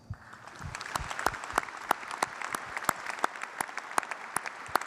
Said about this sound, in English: A quick round of applause for everyone, please